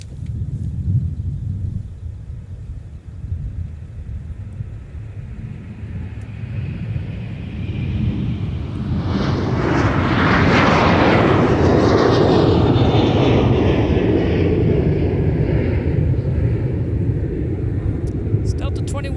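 A Delta airliner bound for Miami departs from MSP airport, its jet roar swelling from a distant rumble into a loud, broad sustained thunder that peaks and lingers as the plane climbs out.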